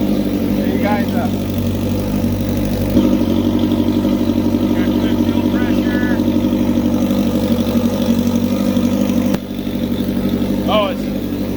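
A crosskart engine idles steadily through its turbo and exhaust, a close mid-pitched rumble with faint turbo whine above it, while someone talks over it.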